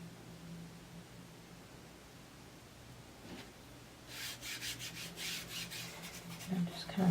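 Rubbing and rasping over a Chalk Couture eucalyptus wreath transfer, a soft scratchy friction that starts faintly and grows into a denser, louder scrubbing in the last few seconds, close up with no talking.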